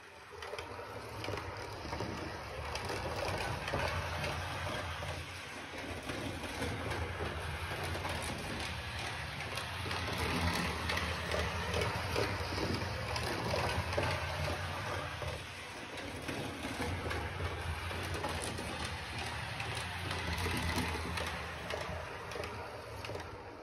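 A Märklin 39065 model diesel locomotive with smoke generator and disco light runs at full throttle, a steady whirring, rumbling motor hum that stays continuous and fairly loud throughout.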